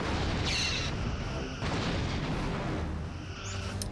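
Starship phaser fire in a Star Trek space battle game, with the USS Elkins against the USS Defiant: dense booming weapon blasts and rumbling impacts roll on continuously at a steady, loud level.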